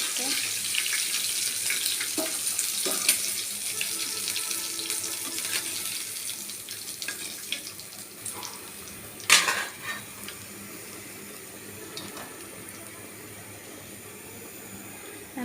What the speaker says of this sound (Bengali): আমি মাংসগুলো ভালোভাবে ধুয়ে নিয়েছি